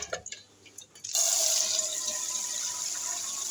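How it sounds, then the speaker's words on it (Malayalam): Water pours into a pot for boiling after a few faint clinks and bumps, then becomes a steady, loud, close rushing stream that continues to the end. "ഇത് പുഴുങ്ങുന്നതിൽ കുറച്ച് വെള്ളം ഒഴിക്കുക."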